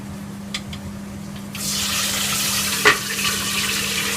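Pork for lechon kawali hits hot oil in a pot and bursts into a loud, hissing sizzle partway through, which then holds steady with a few crackles and pops close by.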